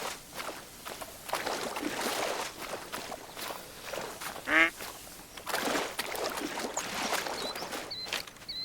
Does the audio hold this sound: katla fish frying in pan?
no